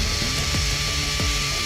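A FLEX drill bores its bit into a block, a loud, steady grinding whir close by with a few rhythmic clunks as the bit bites.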